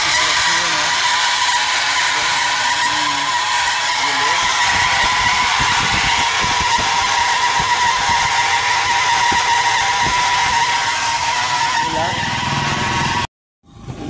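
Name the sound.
Toyota Land Cruiser aircon compressor running noisily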